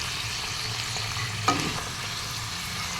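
Ampalaya con carne, bitter gourd with beef, sizzling steadily in a pan while being stirred, with one brief clink of a utensil midway.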